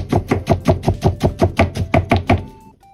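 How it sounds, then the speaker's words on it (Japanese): A knife finely mincing leaf onion (young onions with green tops) on a cutting board, about a dozen crisp, evenly spaced chops in quick succession, close and alone. "これはみじん切りにしていきましょう"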